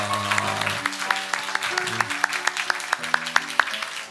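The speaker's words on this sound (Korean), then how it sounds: "박수 한번 하겠습니다" Church congregation at a Sunday morning service clapping for a visiting elderly mother, a room full of applause with distinct claps standing out, over sustained organ or keyboard chords.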